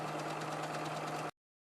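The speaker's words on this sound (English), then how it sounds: "putting on my widest zigzag, and what I want to do is the circular edge, I want to just zigzag that" A sewing machine running a wide zigzag stitch around the edge of a fabric circle, a brief close rapid mechanical rattling hum that stops abruptly after about a second.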